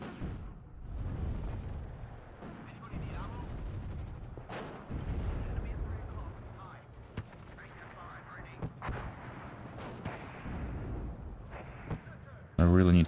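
Mortar fire in a military video game sounds as repeated deep booming thuds and distant explosions at a fairly low level, with a louder burst at the very end and a voice talking throughout.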